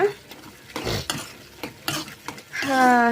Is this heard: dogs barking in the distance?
no